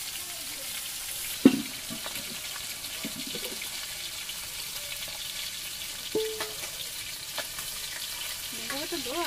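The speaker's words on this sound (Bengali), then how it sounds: "এখানে ডাল বাগার দেওয়া হবে, তো ফোড়ন রেডি করছে" Spices frying in oil for a dal tempering, a soft steady sizzle with a few sharp utensil clanks and faint background noise.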